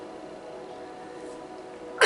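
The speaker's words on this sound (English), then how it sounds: "Sorry for the cough." A single sharp cough bursts out at the very end, loud and close after a stretch of quiet room hiss.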